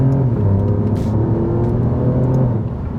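A 2025 Alfa Romeo Giulia Quadrifoglio engine revs hard and continuously, a loud, close, raspy, throaty drone holding steady for the whole stretch before easing slightly at the end.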